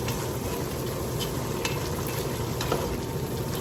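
Green beans and crispy bacon are stirred together in a pot, a continuous close scraping and soft sizzling mix with no voices over it.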